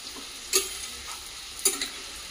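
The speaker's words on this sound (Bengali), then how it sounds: "পেঁয়াজ দিচ্ছি, তার সাথে শুকনো লঙ্কা আর তেজপাতা।" Onion frying in oil with dried chilli and bay leaf gives a steady soft sizzle, with two sharper bursts of stirring or scraping in the pan.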